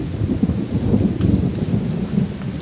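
Heavy downpour of rain mixed with low rolling thunder, loud and steady throughout with no pauses, close around the listener in an outdoor setting.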